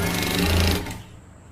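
A sewing machine stitches a half-inch seam allowance in a fast, steady whir for under a second, then stops, leaving faint room noise.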